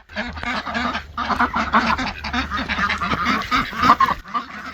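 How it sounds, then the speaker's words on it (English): Several domestic ducks on a homestead honking and quacking loudly and continuously, their overlapping calls close to the recorder with little pause. "Alright, this one's quacking."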